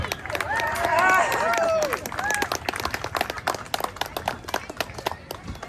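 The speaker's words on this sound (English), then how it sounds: "This is where you applaud." An outdoor audience at a Fourth of July community band concert in Clarkdale breaks into applause, a sharp scattered clatter of hands with whoops and voices at the start, continuing steadily throughout.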